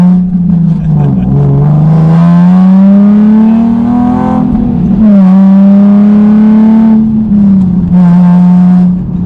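A Nissan 370Z Nismo's loud, raspy engine roar rises and falls as it accelerates and shifts, its harsh, nearly straight-pipe exhaust dominating the whole stretch.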